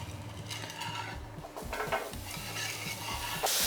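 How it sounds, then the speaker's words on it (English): Vegetables sautéing in a pan still coated with browned meat residue, stirred steadily so utensils scrape and clatter against the metal over a continuous sizzle, all heard up close with no talking. "in that same pan, we're just going to saute off all the vegetables"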